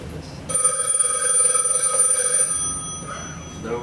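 A phone rings loudly during a call placed in a live demo at a conference presentation, a steady electronic ring lasting a few seconds and then fading, with background noise around it.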